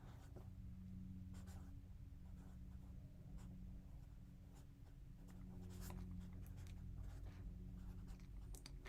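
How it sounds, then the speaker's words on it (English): A pen writing a note on paper during a cartooning session, with soft, close scratching strokes coming in short bursts over a low steady hum, no talk. "I'm going to write that one down right now."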